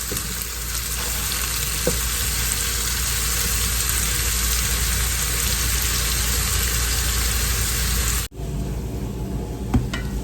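Breakfast potatoes fry in a skillet with a loud, continuous sizzle and crackle. After about eight seconds the sizzle drops away, leaving a quieter kitchen with a few small knocks.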